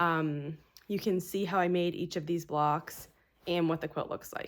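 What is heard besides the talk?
No distinct noise like a dog, phone or traffic.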